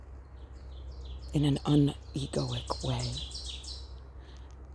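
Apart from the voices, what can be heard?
ovenbird call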